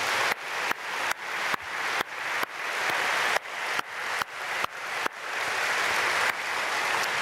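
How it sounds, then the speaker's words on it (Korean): A church congregation at an early-morning prayer service claps in a series of separate, evenly spaced bursts, each sharp onset decaying quickly, with a longer sustained stretch near the close. "박수로 축복하겠습니다"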